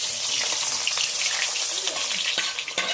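Egg dish frying in a generous amount of hot oil, a steady close crackling sizzle with sharp pops and spits throughout.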